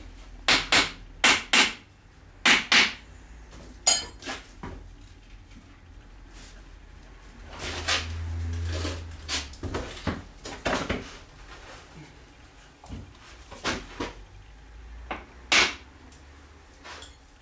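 Workers pry and knock loose a rusted half of a GAZ-21 Volga rear axle housing, giving scattered sharp metallic bangs and clunks in irregular bursts with quieter scraping gaps, close in a workshop.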